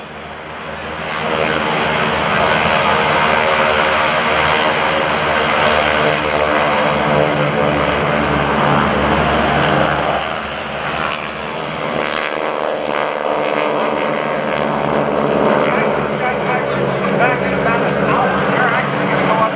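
GEICO Skytypers propeller aircraft engines rise from quiet into a loud, sustained droning roar at an airshow, dipping briefly before swelling again as the planes take off and pass.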